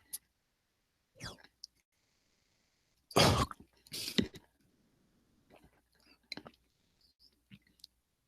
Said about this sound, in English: Something went down the wrong way and I was coughing.